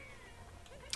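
A faint, very brief meow-like power-up cue from the cat transformation in the video game Super Mario 3D World, ending in a quick bright chime.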